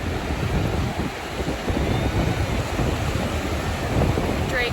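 Ocean surf and gusty wind on a cold New England beach, a constant broad roar of breaking waves and buffeting wind noise close to the microphone.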